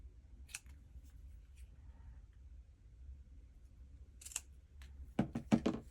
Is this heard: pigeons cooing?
no